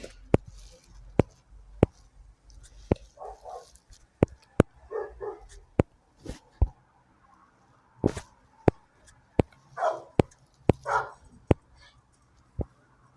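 Minecraft dogs give repeated short barks and yips at irregular intervals over about thirteen seconds, among sharp in-game clicks, at moderate volume with no talking.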